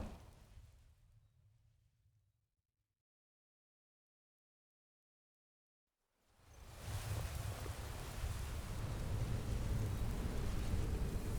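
Rainfall with rumbling thunder in the Skyrim game world, a low rumble fading out into near silence before a steady, loud downpour surges back in and holds to the end.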